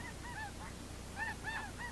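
Several geese honk in short bursts at Bombay Beach by the Salton Sea, a few calls at first and then a louder cluster, over a steady outdoor background with no talking.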